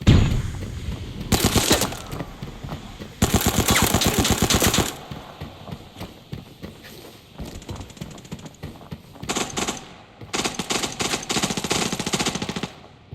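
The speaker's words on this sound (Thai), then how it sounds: "ไปครับเสียงปืนดังแล้ววิ่งเลยนะครับ" Bursts of automatic rifle fire in the shooter game Arena Breakout, several long rapid volleys separated by quieter gaps, close and loud with sharp echoing cracks.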